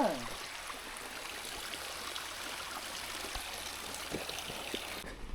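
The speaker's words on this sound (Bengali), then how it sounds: "ছোট্ট ঝর্ণা যাচ্ছে, নিশ্চয়ই বর্ষাকালে এই ঝর্ণার অনেক জল থাকে" A small mountain waterfall stream near Sittong in North Bengal flows with a steady, soft broadband rush, carrying low water, continuous and unbroken with faint occasional knocks.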